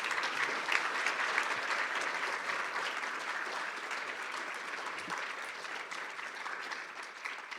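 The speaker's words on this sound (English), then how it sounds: "let's give them a great round of applause." Sustained applause from a large audience at a judicial circuit court candidates forum, steady clapping that fills the space and fades slightly toward the end, with no voices standing out.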